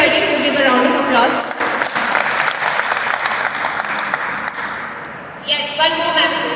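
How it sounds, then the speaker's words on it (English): Audience at an in-house school training session breaks into a round of applause, dense steady clapping from a sizeable crowd, loud and sustained, with a short renewed burst near the end. "Please, I request everybody to give a round of applause."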